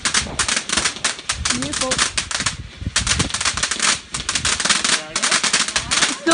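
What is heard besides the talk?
crackling firework on bonfire night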